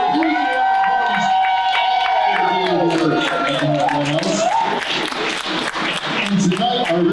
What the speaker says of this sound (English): how about a nice round of applause for Scott?